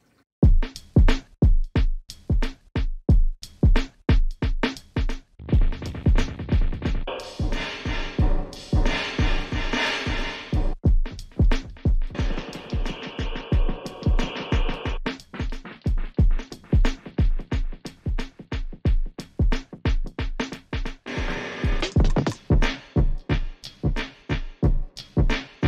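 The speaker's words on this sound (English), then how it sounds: "This is what the drum sounds like without that on" Dry, unprocessed drum track playing a steady, busy groove of punchy hits for about twenty-five seconds, loud and continuous with dense cymbal wash and no effect added.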